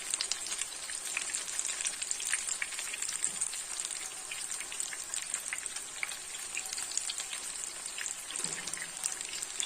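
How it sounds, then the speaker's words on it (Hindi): Chicken and onion kebabs, made without egg or gram flour, fry in hot oil on a slow flame, giving a steady, close, even sizzle that carries through without pause and with no talking. "अब मैं स्लो फ्लेम पर इन्हें फ्राई कर रही हूँ।"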